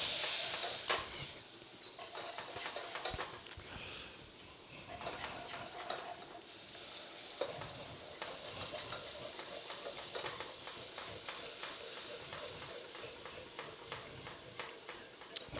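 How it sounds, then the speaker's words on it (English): Turkey stock poured into a hot flour roux for gravy, raising a continuous sizzle and bubbling hiss with clicking spoon stirs, steady and close throughout. "so I'm going to go in with this turkey stock"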